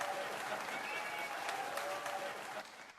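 Brief audience applause and cheering for Daisy, a steady burst of clapping that tapers off near the end.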